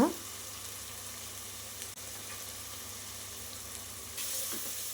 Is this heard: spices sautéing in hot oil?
yes